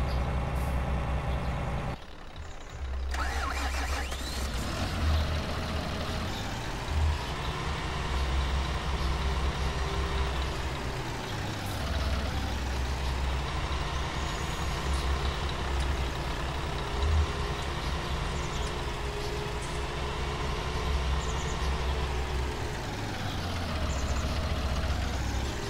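Tractor in Farming Simulator 19 runs with a loud, steady diesel drone, its pitch rising and falling as it revs, preceded by a brief hiss, with no talking.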